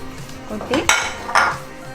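Fried chicken tipped into a pan for butter chicken, with a few metallic clanks and scrapes of a utensil against the cookware, sharp and close.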